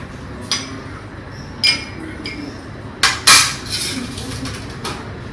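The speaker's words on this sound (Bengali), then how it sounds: "গ্যাসটা একটুখানি কমিয়ে দিয়ে ভাতটা বসিয়ে দিয়ে যাই।" Metal pots clink a few separate times while rice is set to cook on a gas stove, sharp close knocks at a steady domestic pace with quiet gaps between.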